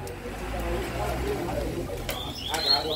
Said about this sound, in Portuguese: Tem coleiro, tem papacapim, tem baiano.